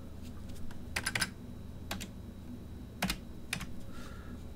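Fingers typing a short name on a computer keyboard, a few quick clusters of crisp key clicks with pauses between, close and quiet with no talk.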